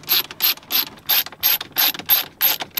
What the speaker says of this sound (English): So let's go ahead and put two of those screws back in.